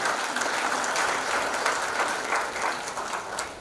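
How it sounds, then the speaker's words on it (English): Steady round of applause from an audience at an agricultural meeting of heads of government, a dense continuous patter of many hands throughout with no talk over it. "we should give him a round of applause for this initiative"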